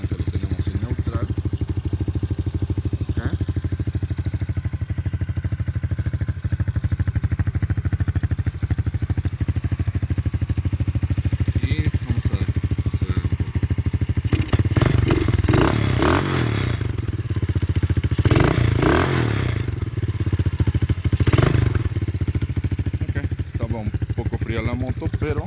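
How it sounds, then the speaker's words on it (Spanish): An ATV engine runs at a steady idle after a carburetor adjustment, with a constant close drone, while someone speaks at length over it and occasional clattering, scraping bursts break through. "a la hora de poner la velocidad no debe de moverse la motocicleta"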